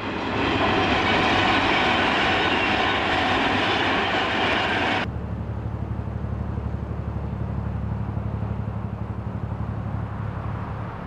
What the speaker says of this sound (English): You only hear the trains once in a while